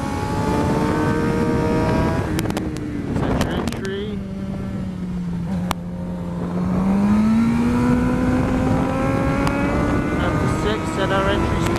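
A motorcycle engine held under throttle while riding through corners, a loud continuous drone whose pitch sags and then climbs again with the revs, with rushing wind noise all the way through.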